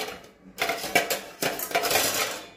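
Pots, pans and utensils clatter and clink in a home kitchen during a hunt for a heavy vessel to weigh down freshly made paneer. Bursts of close metallic knocking come in quick irregular clusters after a brief quiet start, with no voices.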